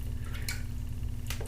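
A few drips of water are added to a shaving brush loaded with soap, giving two brief wet splashy drips over a low steady hum, fairly close and with no speech.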